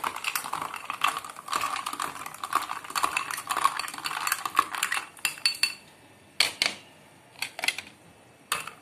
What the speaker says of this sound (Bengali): সোডা, একটু নেড়ে দেবো কারণ নিচে এটা না হলে জমে যাবে।